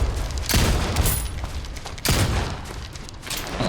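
Two loud, close gunshot blasts about a second and a half apart ring out in the Old West video game Soulslinger: Envoy of Death during a duel against a ruthless gunslinger, with each report trailing off into a rumbling decay.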